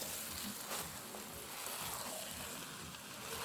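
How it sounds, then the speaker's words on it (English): Food frying in a single pot for quick turmeric rice: a quiet, steady sizzle that hisses on without a break, with no talking. "can you hear that frying up?"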